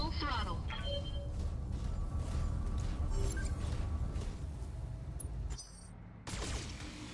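Mech weapons fire in the BattleTech video game as a dense run of sharp, rapid shots and impacts, with a brief lull near the end before the barrage resumes.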